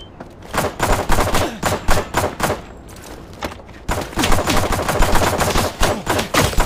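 Shooter video game gunfire, dense and loud, with rapid overlapping shots and automatic bursts crackling nearly nonstop, a brief lull in the middle and then heavier sustained firing.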